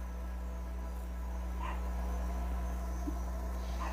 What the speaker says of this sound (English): I can hear my brother-in-law's Yorkie. He wants to come in,